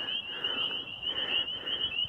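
Frogs chorus from a small wetland on a warm February day, a dense, steady trilling drone that stays loud and continuous throughout, with no voices over it.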